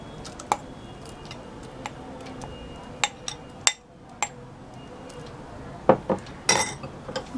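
Ground corn is scooped into a metal pot for corn cutlets, giving sparse sharp clinks and taps of a spoon against the vessel, spaced irregularly over a quiet background.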